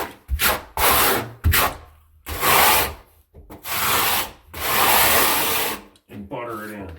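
Steel trowel rubbing and scraping joint compound across cement board seams, a run of loud, broad scraping strokes, each lasting about a second, separated by short gaps.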